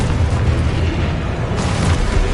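A Confringo spell from a wizarding video game bursts in a heavy, rumbling blast, a dense low boom that fills the short moment with a brief brighter crackle partway through.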